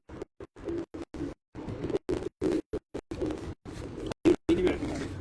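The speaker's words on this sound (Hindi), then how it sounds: "5वां कबूतर बैठ रहा है" A pigeon settles onto a rooftop during a pigeon-flying contest, with soft cooing and brief flutters heard between gaps of silence, close and fairly quiet.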